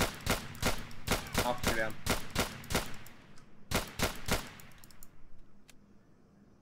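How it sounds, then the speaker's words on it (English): Gunfire in Grand Theft Auto IV during a police building clear, with sharp, loud shots in rapid irregular bursts and a few trailing reports as the shooting thins. Voices talk over the shots. "More shots fired down that way"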